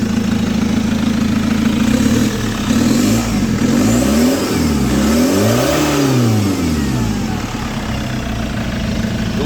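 A Chevrolet Captiva diesel with a smoky exhaust and sluggish pulling is revved hard and repeatedly close by, its loud engine note rising and falling in several sweeping surges with no talk over it.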